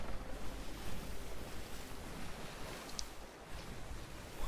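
Wind and high sea waves in Sea of Thieves, a steady broadband rush of surf and gusting air around a sailing ship, continuous and fairly loud with no talk.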